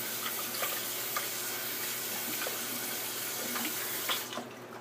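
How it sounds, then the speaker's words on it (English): Running tap water splashes steadily as hands are rinsed at a sink, a continuous close hiss with faint knocks that cuts off abruptly just before the end, no talking. "I rinsed my hands."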